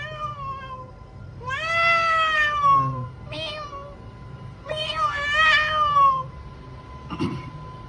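A person imitates a cat, giving two long, wavering meows followed by a shorter third one, loud and close with brief pauses between.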